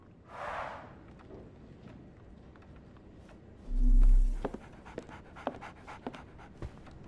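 Dog panting in the Sherlock Holmes The Awakened video game, a short breathy burst at the start, then a low hum and scattered soft ticks and footsteps, fairly quiet overall.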